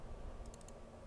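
A Ctrl+Q shortcut pressed on a computer keyboard during CAD work: a quick burst of about four soft, close key clicks over a quiet room hum.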